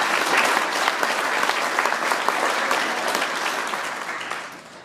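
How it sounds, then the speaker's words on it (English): Audience applause, steady crisp clapping from a modest crowd with some sharp individual claps standing out, holding level then fading away at the end. "Shall we give them a round of applause,"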